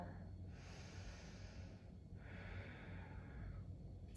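Slow, deep breaths during a vinyasa yoga flow, two long airy exhales close to the microphone with a quiet pause between, faint and calm over a low background hum.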